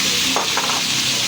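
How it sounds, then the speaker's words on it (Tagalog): Tomatoes hit hot cooking oil for a fish sarciado, giving a loud, dense sizzle from close by. A brief scrape or stir comes partway through this short burst, and no one speaks. "mainit na ng ating mantika. Unahin na natin itong kamatis."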